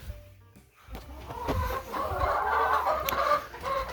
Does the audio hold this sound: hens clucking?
yes